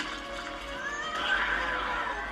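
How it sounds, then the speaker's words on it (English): A horse in a TV drama whinnies loudly, a rising and falling neigh lasting about two seconds over a low background hum, with no talk. "Lissa, get behind the fucking horse."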